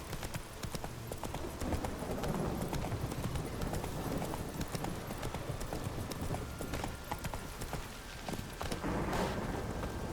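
Fast, rhythmic hoofbeats of a galloping horse clatter steadily over a rumbling background, continuing without pause, in the video game The Witcher 3.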